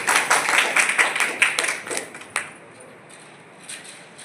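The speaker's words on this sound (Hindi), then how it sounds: "ताली बजाइए।" An audience claps at a spiritual gathering, a steady patter of many hands for about two seconds that thins out and stops, leaving only a few scattered late claps.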